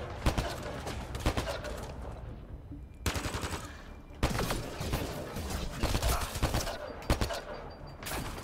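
Gunfire in Mass Effect Andromeda, with dense bursts of rapid automatic shots that keep cutting out and resuming, loud and close, with a voice speaking faintly underneath.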